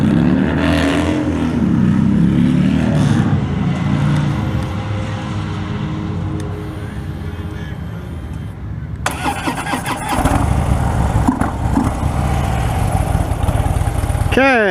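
A 2016 Harley-Davidson Fat Bob motorcycle starts and idles with a deep, loping V-twin rumble close by, then revs and pulls away with rising engine roar, wind noise building as it rides.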